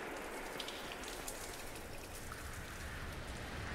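Dripping water from a rain-like sprinkler system in the video game Limbo, a faint, steady hiss of fine drops pattering on a surface, continuous and unchanging, with no voices.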